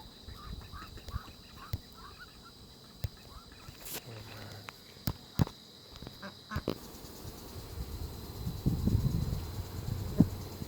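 Mallard ducks quack outdoors in a few faint bursts, with some louder, closer calls toward the end, among sharp clicks and background noise.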